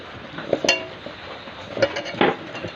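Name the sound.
mixing coconut with sweets in a bowl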